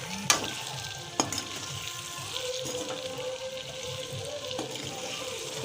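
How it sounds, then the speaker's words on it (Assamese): A spoon stirring meat in a pot on the stove while it sizzles steadily, with a few sharp scrapes and knocks against the pot over continuous frying hiss. "এয়া মাংসটো সিজিলে অলপ অলপ লৰাই দিছোঁ"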